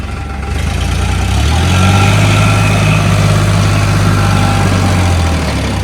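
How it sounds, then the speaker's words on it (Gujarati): A tractor loaded with soil, stuck in rain-soaked ground, runs its engine with a loud, steady low diesel drone that swells slightly as it strains, close by and continuous, with no voices. "તો મિત્રો જો અહીંયા ઠેબા ભરેલો ટ્રેક્ટર ફસાઈ ગયું છે"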